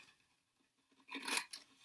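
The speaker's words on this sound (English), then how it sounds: "See if my scissors work a little bit better." A short, crisp snip and crunch of scissors cutting, close and brief, following near silence, while making a resin cheese board.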